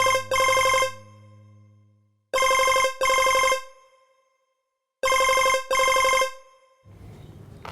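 A mobile phone rings with an incoming call, three loud bursts of a repeating electronic ringtone, each made of two quick trills separated by pauses, then quiet room noise.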